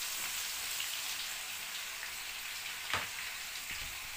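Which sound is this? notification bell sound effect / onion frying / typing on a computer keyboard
onion frying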